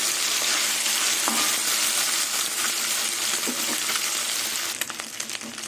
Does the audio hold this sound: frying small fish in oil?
yes